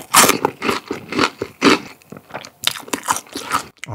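Cheese-seasoned Bburinkle fried food is bitten and chewed up close, a series of loud, crisp crunches in uneven bursts with short quiet pauses between mouthfuls.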